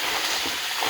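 Snails going into a hot pan set off a steady, loud sizzle of frying that fills the whole second, with faint stirring underneath and no voices.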